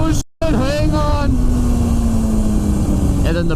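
A Honda Fireblade motorcycle engine pulls under throttle while being ridden, a rising, droning tone after a brief cut-out, with wind noise and someone talking over it.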